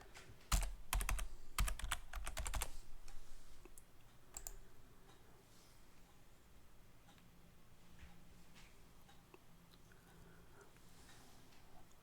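Rapid clicking keystrokes on a computer keyboard while a password is entered on a Linux Lite 3.0 setup, a dense close burst in the first seconds, then a few scattered taps over quiet room noise.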